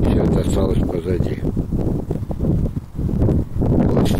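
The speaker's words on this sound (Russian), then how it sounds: "Сейчас ветер поднялся, наверное, меня будет плохо слышно или совсем не слышно." Gusty outdoor wind buffeting the microphone in uneven low rumbles as it picks up, heard close and loud beneath someone talking throughout.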